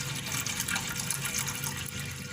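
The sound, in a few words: water being poured onto boneless mutton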